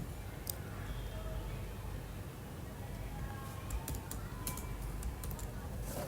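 Keys clatter on a computer keyboard in steady, fast bursts of clicks, close and continuous over a faint background hiss.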